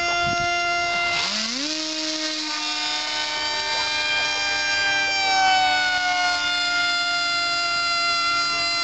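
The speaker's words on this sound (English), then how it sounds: "That's like quarter throttle, dude." An RCPowers T-50 v1 PAK FA model jet on its maiden flight, held at about quarter throttle: a steady, piercing electric whine that sweeps upward in pitch, then holds with bright layered overtones, fairly loud and close.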